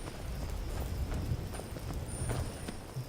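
Horse hooves clopping in Skyrim, with a steady run of soft, fairly close hoofbeats over low rumbling game ambience.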